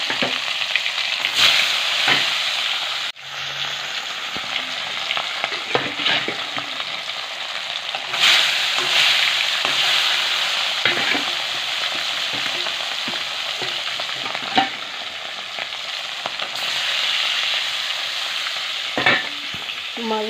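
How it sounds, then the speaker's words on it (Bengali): Fish fries in hot oil in a pan, a constant bright sizzle lasting throughout, with intermittent scraping and clicking strokes of a spatula stirring the pieces, close and loud. "মাছ ভাজাটা হতে থাক।"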